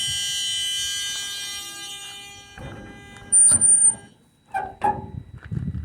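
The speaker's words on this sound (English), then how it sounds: "Our side emergency door opens freely, the alarm sounds" A school bus side emergency door alarm, a harsh electric buzzer, drones loudly for about two seconds then cuts off, followed by clunks and rattling of the door being handled.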